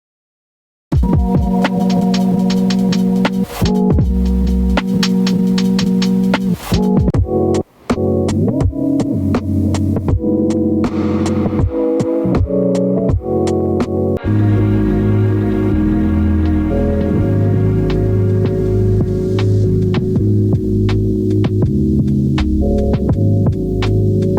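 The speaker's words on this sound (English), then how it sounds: "It's that electronic piano sound that's being pitched up and pitched down." A droning electric piano preset in Ableton Live 11 sustains while its pitch glides up and down, with a few brief dropouts and shifting harmonics, loud and without voices.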